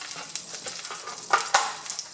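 Butter melting and frying in a pan for pork fried rice, a soft steady sizzle with a few sharper crackles and spatters near the middle, close and moderately quiet with no talking.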